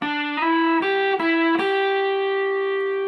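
Distorted electric guitar plays single notes one after another, each pitch sliding up cleanly before the last one rings out; loud and close, no voices.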